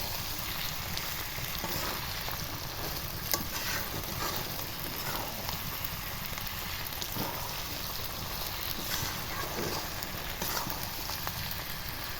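Chicken skin fries in hot oil, a dense, even crackling sizzle that holds steady throughout with no talking.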